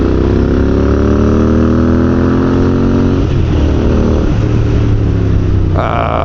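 A Royal Enfield INT650 twin-cylinder motorcycle engine pulls hard while riding on a straight road in freezing weather, its loud close drone climbing steadily in pitch through the gears, then dropping briefly at a shift.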